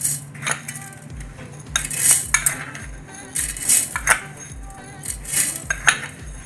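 A metal spoon clinks repeatedly against a mixer jar while adding powdered sugar, in a rough rhythm, with light scraping and tapping between strikes.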